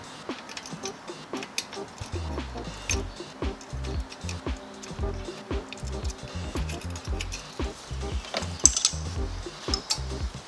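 Hex bolts being tightened on a Topeak rear bike rack, a close series of irregular ratcheting clicks and metallic taps that continue steadily and stay moderately loud throughout.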